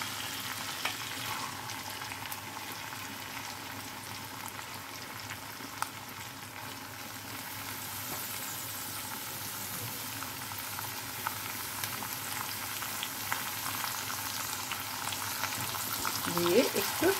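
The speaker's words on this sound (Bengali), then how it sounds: "দিয়ে একটু পেঁয়াজটা ভাজা ভাজা হোক" Chopped onions frying in hot oil for a rohu fish curry made with cumin paste, a steady broadband sizzle filling the whole stretch without pause, close and even, growing slightly louder toward the end with a brief stir.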